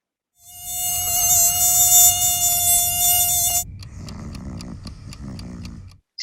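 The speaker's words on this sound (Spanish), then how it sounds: "o de un mosquito." Sustained high-pitched whine of a mosquito, loud and close, droning steadily for about three seconds before cutting off, followed by a softer stretch of faint rhythmic ticking.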